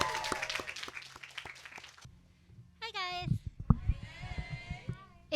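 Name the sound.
audience applause at a luncheon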